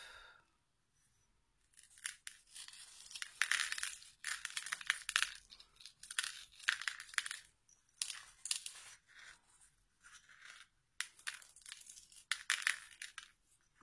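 Coarse crushed salt crystals sprinkled onto wet watercolor paper for a Christmas card, giving scattered bursts of dry, crisp pattering and ticking that come and go in short clusters, close up, with no talking.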